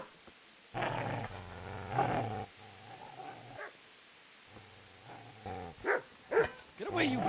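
A dog in the medieval game Kingdom Come Deliverance growls low and breaks into a few sharp barks and yips, close and intermittent, with a voice shouting near the end.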